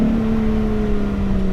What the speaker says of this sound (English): the rev limiter sounds absolutely epic in this.